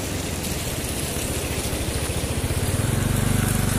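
A vehicle engine rumbles near the lower bridge over the Jaldhaka river at the India–Bhutan border, growing louder and more throbbing toward the end over a constant wash of rushing water.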